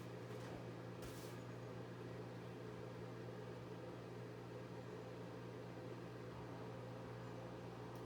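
A microwave oven hums steadily with a low mechanical drone while melting marshmallows and butter, with a brief clatter near the start and no talking.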